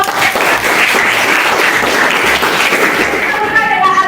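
A classroom of students applauds at the start of a debate lesson, a dense steady burst of clapping that fills the room for several seconds, loud and close.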